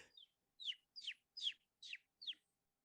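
A person imitates bird noises with six short, high chirps in a quick, even series, each one sliding downward, close and isolated against silence.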